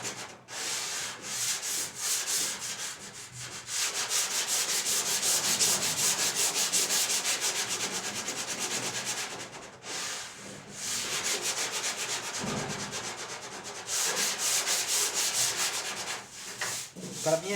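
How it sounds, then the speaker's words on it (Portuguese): Hand sanding of body panels on a 1977 Volkswagen Passat under restoration, close rhythmic abrasive strokes in long runs with brief pauses between them. "Então vamos lixar um pouquinho mais aqui."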